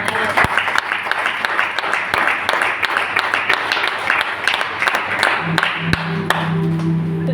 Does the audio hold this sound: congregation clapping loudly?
yes